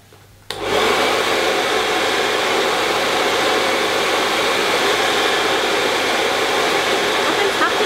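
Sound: hair dryer running with plastic bottle curler attachment

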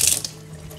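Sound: washing mushrooms under running water

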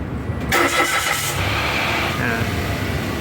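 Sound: Mitsubishi Mirage car engine starting

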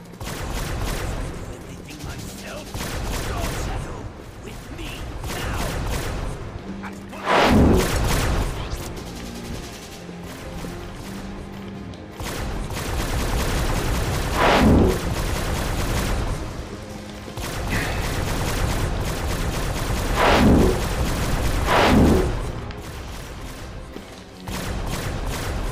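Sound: video game anti-aircraft cannon fire

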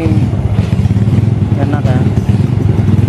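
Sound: Yamaha Vega ZR 135cc bore-up motorcycle engine running

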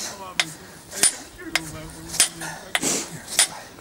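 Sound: hammering on a Т-150К tractor cardan cross joint

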